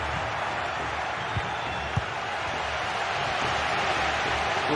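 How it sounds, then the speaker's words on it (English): Stadium crowd at a football match, a steady broad roar of many voices with scattered cheering and clapping, continuous and fairly loud throughout. "Well, just listen to this crowd."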